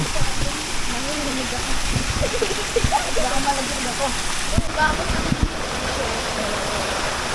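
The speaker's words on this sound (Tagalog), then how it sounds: "ito na yung sapa nila rito oh. maliit lang pero oh, maganda tapos malinis yung tubig" A small creek of clean water flows steadily with a continuous rushing wash that stays loud and close, while people talk over it in places.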